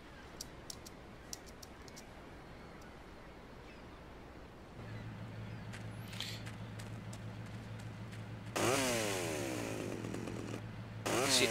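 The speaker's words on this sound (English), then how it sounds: "See, I still get a chainsaw." A chainsaw in GTA Vice City starts with a buzzing whine over low ambient background, followed by a loud raspy burst of revving that cuts off and briefly returns at the end.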